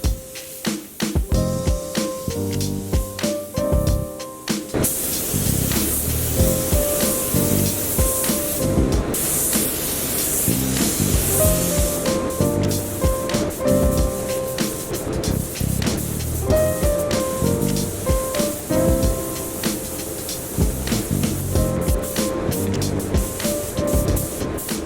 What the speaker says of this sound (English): now I'm going to spray 3 to 4 coats